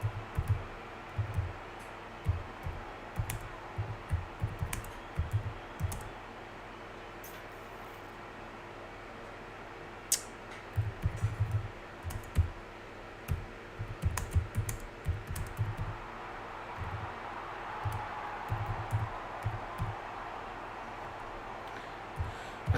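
Someone types on a computer keyboard during a live football watchalong, irregular bursts of soft close keystrokes with pauses in between, over a low room hum.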